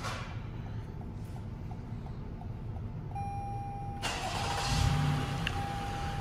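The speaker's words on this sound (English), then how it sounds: "So the vehicle has been remote started." A Toyota Highlander starts remotely, its engine cranking and catching around midway, then settling into a low steady idle heard close by over a constant background hum.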